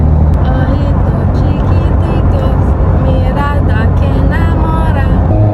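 Loud, steady road and engine rumble fills the cabin of a moving Honda S2000, with voices talking faintly underneath.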